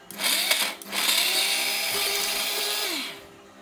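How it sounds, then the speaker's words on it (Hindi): A mixer grinder turns bread into crumbs, whirring loudly and steadily for about three seconds, its motor pitch wavering slightly before it cuts off. "इन्हें मैं अपने मिक्सी के जार में डालूँगी और इनके ब्रेड क्रम्स बना लूँगी"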